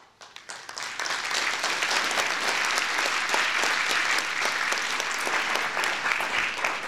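An auditorium audience at MaRS applauds after a video at a mental health event, starting with a few sparse claps that quickly swell into full, loud, sustained applause.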